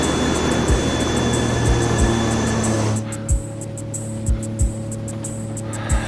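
Airliner on final approach to a runway, its steady engine drone and broadband rush filling the cabin, dropping in level partway through, with a few dull thumps punctuating the hum.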